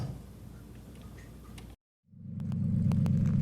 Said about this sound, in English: Can you hear that exhaust down here?